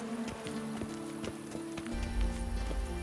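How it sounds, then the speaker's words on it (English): Galloping horse in The Witcher 3 video game, with quick rhythmic hoofbeats pounding over low background music that swells toward the end. "Even a horse drops if you ride it with a constant gallop."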